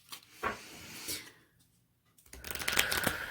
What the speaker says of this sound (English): And we did some shuffling at the beginning